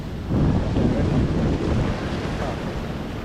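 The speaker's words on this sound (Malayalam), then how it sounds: "അപ്പോൾ മിക്കവാറും സ്ഥലത്തും കടൽക്ഷോഭം, കടലാക്രമണം ഒക്കെ പ്രശ്നം തന്നെയാണ്." Rough sea surf pounding a Thrissur beach during coastal erosion, a continuous loud roar of breaking waves with wind buffeting the microphone throughout, no talk.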